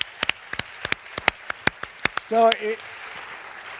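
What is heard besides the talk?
audience applause at keynote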